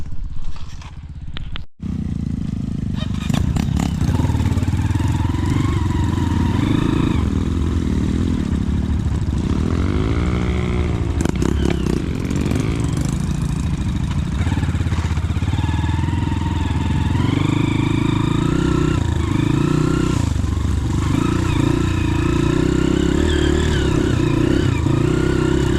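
A motorcycle on bald tyres strains up a rain-soaked, muddy slope, its mid-pitched engine droning and revving steadily at close range for a long stretch, with occasional clatter and a brief dropout near the start.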